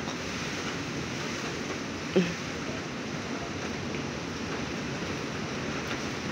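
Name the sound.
strong typhoon wind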